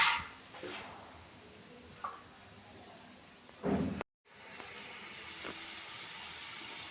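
Peanuts fry in hot oil as tempering for gongura pulihora; a few soft knocks and rustles come first, then after a brief silent break a steady, fairly loud sizzle hisses on alone.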